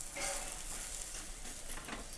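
Flatbread (poli) sizzling on a hot pan after being flipped, with a chapati laid on top to warm, giving a steady, soft frying hiss close by with faint scraping touches.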